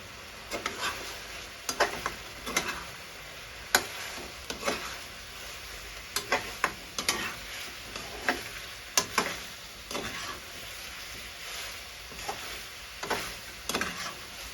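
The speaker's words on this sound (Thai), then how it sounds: "อันนี้ก็คั่วต่อเลยเจ้า" Naem being stir-fried with chicken drumsticks in a pan: a steady low sizzle broken by repeated sharp scraping clicks of a utensil against the pan at an uneven rhythm, close and alone without talk.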